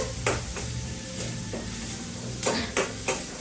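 Onions frying in a pan, a steady close sizzle with a few sharp stirring scrapes and knocks of a spoon, no talk.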